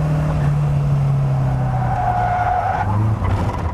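A car driven hard around the Silverstone circuit, with a loud steady engine drone heard from on board and a long squeal of tyres as it brakes into a corner.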